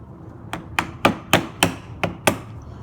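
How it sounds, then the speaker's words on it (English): A mallet strikes a chisel cutting a cross lap joint in wood with hand tools: seven sharp, evenly spaced knocks, close and crisp against a quiet background. "I start with my chisel above the line, aiming up with the bevel, this angle up"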